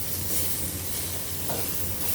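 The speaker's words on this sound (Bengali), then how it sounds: "আর এই তো দুপুরের জন্য আমি মূলা শাক ভাজি করে নিচ্ছি" Radish greens are stir-fried in a pan with onion, garlic, green chilies and dried chilies. A continuous close sizzle with stirring noise holds steady over a low background hum, with no talking.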